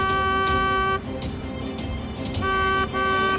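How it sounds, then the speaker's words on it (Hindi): A horn sounds in two sustained, loud blasts separated by a short gap, heard from a boat out at sea in rough weather. "हॉर्न बजाओ, हॉर्न"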